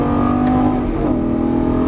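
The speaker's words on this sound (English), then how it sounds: "Now start squeezing the throttle as you unwind the wheel." A Lamborghini Gallardo LP550-2 engine pulls under steady throttle on a track, a loud, sustained near drone with a rising tonal whine and no talk over it.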